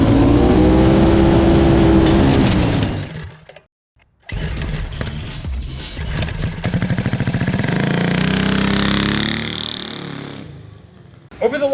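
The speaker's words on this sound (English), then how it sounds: "we've been overhauling our front engine Harbor Freight 670 power drag rail" Turbocharged Harbor Freight Predator 670cc V-twin in a front-engine drag rail dragster, loud rough idle and revving that cuts out briefly, then a hard, rising run building to a high-pitched scream before dropping off.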